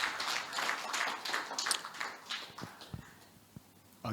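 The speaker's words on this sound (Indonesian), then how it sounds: "Kita berikan tepuk tangan kepada Pak Reynal." Audience clapping for a guest speaker Pak Reynal at a moderated session, a dense patter of applause through the first seconds that thins into scattered claps and fades out.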